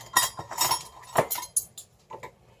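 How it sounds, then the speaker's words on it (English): Metal measuring spoons clinking and rattling while being pulled out in a kitchen-style soapmaking setup, a cluster of close, bright clinks and taps with brief gaps between them. "let's get my measuring spoon out."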